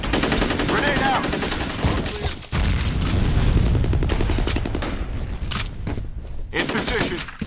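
A grenade explosion in a F.E.A.R. Combat multiplayer match lands amid heavy, loud automatic gunfire, with sharp bursts and a deep boom near the middle as voices call out intermittently.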